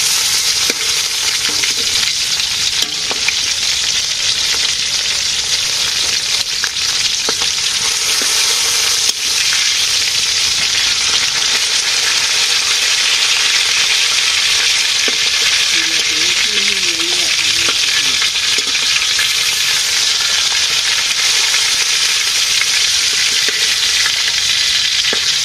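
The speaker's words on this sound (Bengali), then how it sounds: "মাছ ভাজি হয়ে গেছে।" Pangas fish frying in a pan gives a steady, loud sizzle with a bright hiss that holds throughout, with occasional faint stirring or scraping beneath it and no talking.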